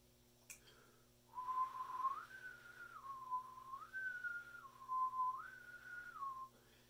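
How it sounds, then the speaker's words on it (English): A person whistles a shaky, wavering tune whose note steps up and down several times, close and fairly soft, with no other sounds. "You can hear I'm not very good at whistling, but you can hear that the note is going up and down"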